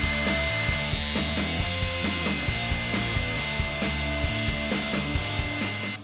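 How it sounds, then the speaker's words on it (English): Drum sander smoothing lumber for a table desk, a steady loud machine drone with rhythmic rubbing and grinding pulses running throughout, no talking. "Now I'm actually going to be using a new tool that I have. It's a drum sander."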